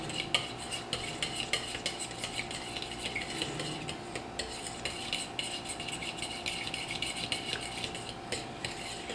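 A fork stirs a mixture in a bowl for breaded pork tenderloin, making soft, steady scraping and clinking that runs the whole time at a fairly quiet level.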